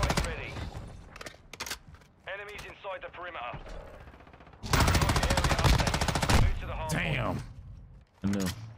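Sustained automatic fire from an M13 rifle in a Call of Duty match, a dense rapid burst of roughly two seconds in the middle with shorter shots around it, loud and close, mixed with someone talking over the action.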